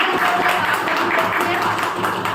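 A crowd at a pension rally in Delhi breaks into sustained applause, dense and steady clapping that fills the whole stretch at a loud, even level.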